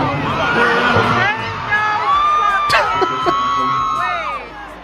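A crowd cheers and whoops at a concert, loud and sustained. Shouts and yells rise and fall together throughout.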